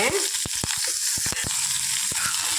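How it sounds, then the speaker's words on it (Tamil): Mustard seeds and chopped onion sizzle in hot oil for a Tamil tomato kuzhambu, a steady close hiss broken by sharp crackling pops spaced unevenly throughout. "இப்போ கடுகு போட்டுக்கலாம் கடுகு கடுகு தலை போட்டுக்கலாம் கூடவே வெங்காயத்தை கட் பண்ணி வெங்காயத்தையும் போட்டுக்கலாம்"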